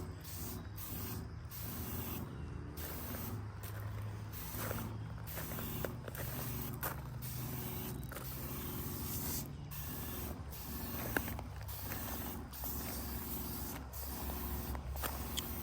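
A STIHL KW-KM power sweeper runs along a lawn edge near Bermuda grass and crabgrass, its engine droning steadily beneath a fast rhythmic series of brushing, flicking bursts as debris is thrown aside.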